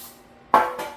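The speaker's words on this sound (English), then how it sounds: "So I'm going to go ahead and put some spray in here." Cooking spray bursts into a baking pan in a home kitchen with a short hiss, followed by a second quieter spritz, close and alone.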